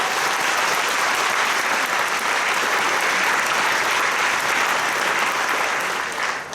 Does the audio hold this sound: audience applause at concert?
yes